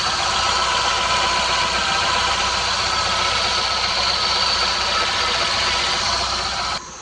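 A Tata Nano's engine idling just after starting, a steady, buzzing mid-pitched rumble held close and even for several seconds before dropping off abruptly near the end.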